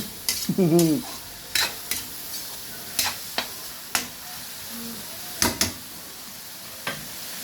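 Spoon stirring goat papaitan stew in a pan, scraping in short separate strokes over a low sizzle, with one brief hum from a voice early on.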